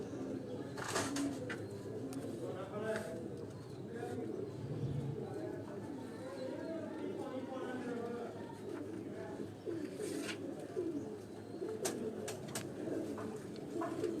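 Black-faced pigeons with violet throats, a home breed kept on a rooftop in Sialkot, coo softly and steadily beneath continuous nearby conversation, with occasional sharper bird calls.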